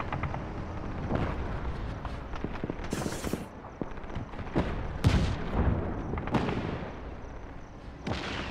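Tank cannon fire in the Just Cause video game, several sharp loud booms scattered over rumbling battle noise and clatter, no talk.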